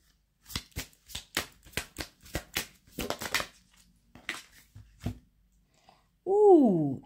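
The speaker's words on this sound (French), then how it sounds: "On va remettre une carte à côté." Tarot cards are shuffled and dealt onto a surface in a series of crisp, evenly spaced snaps and slaps, close and distinct, followed by a short, unrelated tonal sound at the end.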